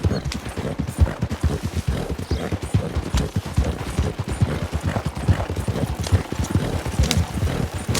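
Horse hooves clip-clop in a fast, steady rhythm in Red Dead Redemption 2 during a winter endurance race with a wagon, loud and close, without speech.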